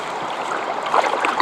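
Water splashes and swirls as a pool water test vial is rinsed out, a steady close trickle with a few brighter splashes toward the end.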